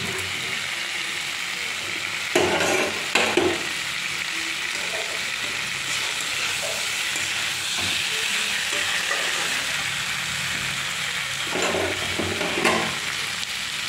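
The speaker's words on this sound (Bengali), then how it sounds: "ভেজে রাখা ফুলকপিগুলো দিয়ে খুব ভালো করে কষিয়ে নেব মশলার সঙ্গে" Fried cauliflower tossed with spices in a pan, a continuous close sizzle and frying hiss with a few bursts of scraping stirs and clatter.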